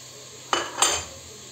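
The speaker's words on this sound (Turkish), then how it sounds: "Bunlar şöyle iyice beraber kavrulsun." Onions and pepper paste being sautéed in a pan for Turkish kuru fasulye (white bean stew): two bright metallic clanks of a utensil against the pan about a third of a second apart, over a quiet background hiss.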